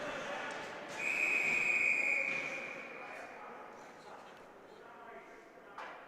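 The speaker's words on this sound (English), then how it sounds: "So we have a whistle blown dead." A referee's whistle blows once, a sustained shrill tone lasting over a second, at a varsity high school ice hockey game, heard over arena crowd noise.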